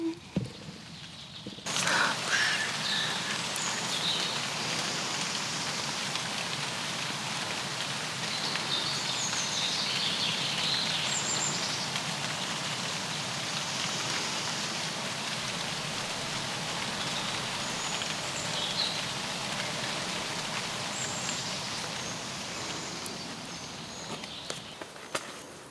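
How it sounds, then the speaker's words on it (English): Steady rainfall outdoors, a dense even hiss of drops pattering on surfaces that holds at a constant level with no talking, soothing and continuous. "I'm just gonna sit here now and listen to the rain."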